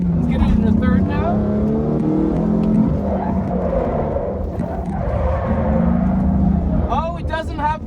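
BMW F80 M3 drifting on a track, its engine revving loudly up and down in pitch through the gears, with voices talking over it.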